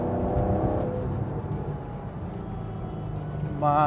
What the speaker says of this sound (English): Ah, the roar of that V8 is just on a whole